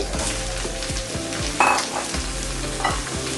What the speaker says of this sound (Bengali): এবার সব কিছুকে এভাবে নেড়ে চেড়ে নিব